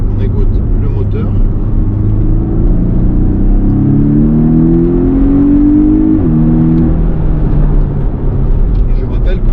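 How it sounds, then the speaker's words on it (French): The four-cylinder engine of a Porsche 718 Cayman with PDK gearbox revs up through rising pitches, shifts, then settles, loud and close from inside the cabin, with no talking over it. "Je vais me taire un peu, on écoute le moteur."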